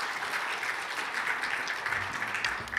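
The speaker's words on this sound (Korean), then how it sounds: "우리 박수로 환영하겠습니다." A church congregation applauds to welcome a pastor to the pulpit at a Sunday worship service seminar, steady dense clapping filling the room throughout.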